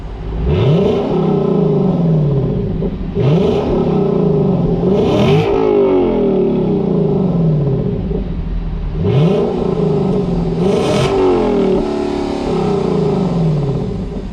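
The V8 exhaust of a 2022 Lexus LC500 convertible roars through repeated revs, climbing and falling in loud bursts with sharp crackles between them, heard close and with no talking.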